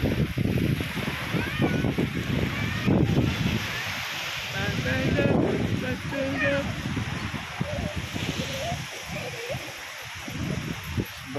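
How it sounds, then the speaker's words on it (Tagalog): Waves and wind fill a crowded Tondaligan Beach in Bonuan, a steady wash of surf and breeze with people chattering throughout and voices close over the sea. "Tuntaligan Beach, ang dami talaga ng tao dito."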